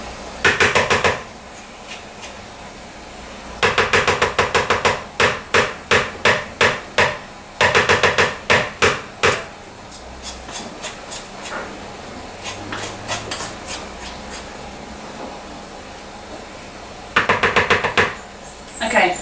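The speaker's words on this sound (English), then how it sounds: "I'm just going to scrape the spoon so that we get all the mixture." Spoon scraping and tapping muffin mixture into large muffin cases, bursts of rapid sharp knocks in groups separated by quieter pauses, close by.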